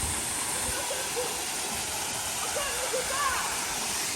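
Natural waterfall at Shengjergj in Albania, a constant broadband rush of falling water that fills the scene evenly, with faint voices of visitors nearby.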